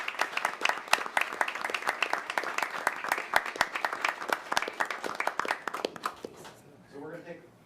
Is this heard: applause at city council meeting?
yes